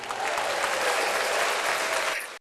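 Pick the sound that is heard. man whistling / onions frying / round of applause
round of applause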